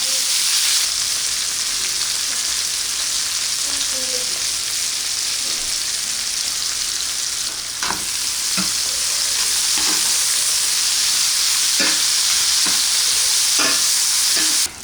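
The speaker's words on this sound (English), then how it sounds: "So we're gonna take the onions and dump them right in. Saute those." Chopped onions sautéing in a pot for pot roast, a steady close sizzle and hiss throughout, with occasional scraping stirs and clinks of a utensil against the pot.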